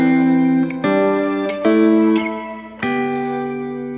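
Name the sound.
shimmer reverb guitar effect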